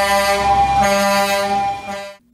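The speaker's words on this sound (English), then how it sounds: "sometimes enhanced with a generous amount of honking." Tow truck horn honking during snow removal in Montreal, one long loud blaring blast that holds for about two seconds and then cuts off abruptly.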